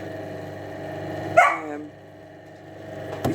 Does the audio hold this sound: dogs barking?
yes